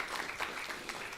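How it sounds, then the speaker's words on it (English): Seminar audience applauds briefly after an academic talk, a faint, distant patter of scattered clapping. "Let's please give another round of applause to Mr."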